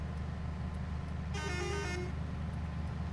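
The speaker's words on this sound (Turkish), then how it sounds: "Korna çalak da sağa gelmesin." A car horn sounds once in Farming Simulator 22, a steady honk lasting under a second over the constant drone of a heavy vehicle engine climbing a slope.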